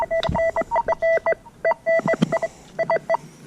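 A metal detector sweeping for finds gives repeated short electronic beeps in quick uneven bursts, loud and close, with brief gaps between the clusters and no speech.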